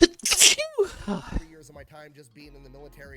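A loud, sharp sneeze bursts out near the start, followed by a person talking.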